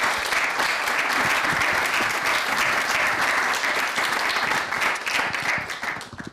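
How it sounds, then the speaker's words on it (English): Sustained applause from an audience at a youth council press conference, dense and steady throughout, fading slightly near the end. "let's give her an applause"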